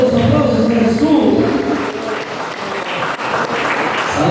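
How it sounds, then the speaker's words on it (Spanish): A church congregation applauds loudly and steadily with dense clapping close by, while voices mix in beneath the clapping. "Fuerte los aplausos a Jesús."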